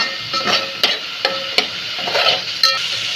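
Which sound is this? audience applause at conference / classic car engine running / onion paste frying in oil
onion paste frying in oil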